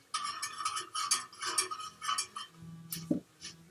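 Stirring a mixing bowl in the Max and Ruby: Bunny Bake-off baking game, heard as a run of light, bright clinking and scraping taps in quick irregular rhythm, with a soft low thud near the end.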